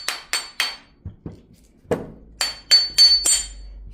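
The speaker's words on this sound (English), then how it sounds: "So now I gotta use my hatchet." A hatchet strikes the varnished plates of a transformer being scrapped for copper, about a dozen sharp metallic clanks and dull thunks in uneven bursts, close and loud with brief ringing between blows.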